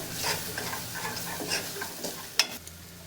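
Gram flour roasts in a pan with ginger stirred in, giving a soft sizzle with scraping strokes and one sharp clink of the spoon near the end.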